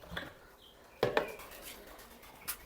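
Wheat grain feed for pigeons being mixed in a container, heard as sparse, light clinks and rattles, with a sharper cluster near the middle and another soft tap near the end, otherwise quiet.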